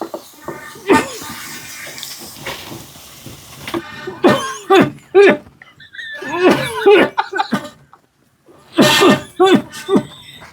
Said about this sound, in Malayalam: മിളകിന്റെ ചുമകാരനാണ്. മിളകിന്റെ ചുമ.